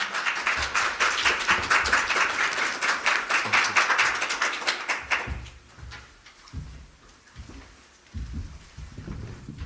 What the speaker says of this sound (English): If you don't mind, please, a round of applause for Lexi, please